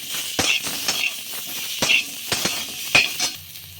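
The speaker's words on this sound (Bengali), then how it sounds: "আমটা ভাজা হয়ে গেছে এবার এতে পরিমাণ মতো হলুদ দিয়ে নিচ্ছি" Raw mango pieces frying in a pan with turmeric, stirred with a utensil that scrapes and clinks against the metal in several distinct strokes over a soft sizzle, close by with no speech.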